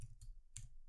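Two quick, quiet keystrokes click on a computer keyboard, close by, separated by a short gap.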